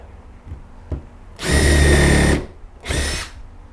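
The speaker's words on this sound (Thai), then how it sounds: "เจาะเลย" A handheld power drill fitted with an X-Line20 2-in-1 drill and driver bit bores into wood, with one loud, close whirring burst of about a second, a pause, then a shorter second burst.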